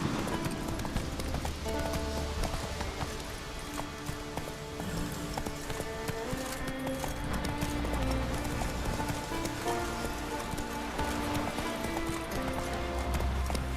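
Geralt's horse Roach gallops in The Witcher 3: Wild Hunt, a fast, continuous drumming of hooves over soft ground with game music and ambient noise underneath.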